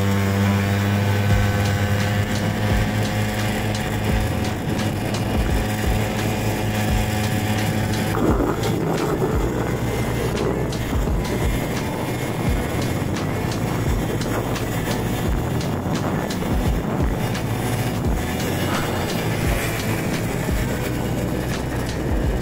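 A Honda Aero 50 scooter that had sat unused for years, its small two-stroke engine droning steadily and then shifting into a rougher, rising note as it accelerates along the road, loud and close.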